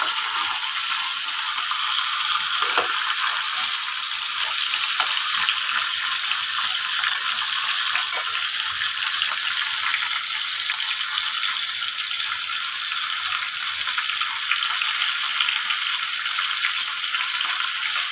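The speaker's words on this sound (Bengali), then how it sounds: "লঙ্কাগুলো মাছের মাথাটা ভাজা হচ্ছে।" Fish head and chillies fry hard in a pan of hot oil, a dense, bright sizzle with fine crackles that holds steady and loud for the whole stretch, with no talk over it.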